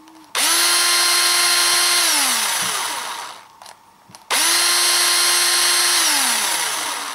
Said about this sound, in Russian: собрать, и проверять уже, как будет крутить шуруповерт